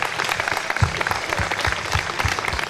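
A crowd applauds special award winners at a Hungarian festive gathering. The clapping is lively and close, with a rhythmic run of strong, low claps keeping a steady beat through the brief burst.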